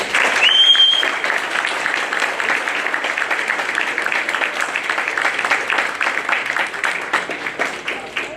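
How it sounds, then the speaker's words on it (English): A graduation audience applauds steadily for about eight seconds, a dense, continuous wash of many hands filling the hall, loud at first and easing slightly as it goes on. "Please give yourselves a round of applause."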